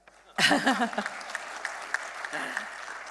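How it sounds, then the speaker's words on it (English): Applause erupts suddenly after a brief quiet moment at a convention plenary session, loud clapping from a crowd that continues steadily, with a voice speaking over it at the start. "at least we'll hear some more clapping."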